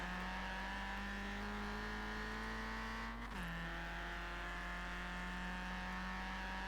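A Toyota Celica engine in the racing game Forza Horizon 4 holds a steady high-revving drone, then drops pitch abruptly in a quick gear shift midway and carries on revving loud and constant.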